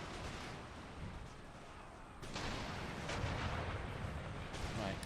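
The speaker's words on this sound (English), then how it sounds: "Right, cannon." Cannon artillery fire in Empire Total War booms as a dense, continuous roar of distant shots and rumbling impacts, with a sharp louder salvo striking partway through.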